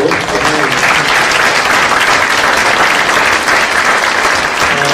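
Loud, dense applause from an audience at an indoor political town-hall event, steady and close throughout with no talk over it.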